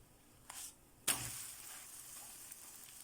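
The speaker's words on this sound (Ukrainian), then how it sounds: "З іншої сторони жаримо приблизно 30 секунд і забираємо зі сковорідки на рушничок." A thin crepe frying in a pan, a broadband sizzle that flares sharply partway through, likely as the crepe is flipped onto its second side, then settles into a steady, moderately close hiss with no talking.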